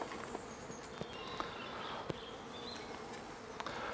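Honey bees hum softly and continuously inside a nucleus colony box during a move into a hive, with a few light taps and knocks over the low buzz.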